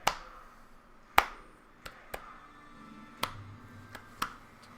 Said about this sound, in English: Keep the clapping right next to the mic.